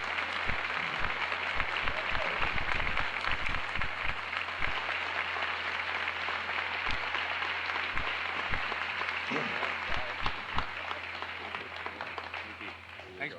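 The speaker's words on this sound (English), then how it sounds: "Would you please give a nice round of applause for Mr. Jim Humpage." Audience applause at a 1994 awards ceremony: a long, continuous wash of crowd clapping with scattered louder individual claps and thumps, while voices talk and call out over it throughout.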